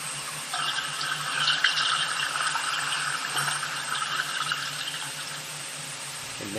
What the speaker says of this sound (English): You're going to hear the toilet flush right now.